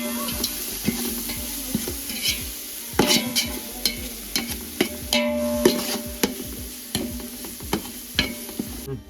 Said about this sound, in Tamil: இஞ்சி பூண்டு பேஸ்ட் போட்டுக்கிறோம்பா. நல்லா கலக்கிறோம்.